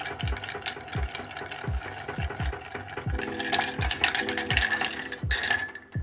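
A bar spoon stirs a gin martini made with Junipero gin over ice in a mixing glass, producing a steady rhythm of close, regular clinks and swirls at roughly even intervals.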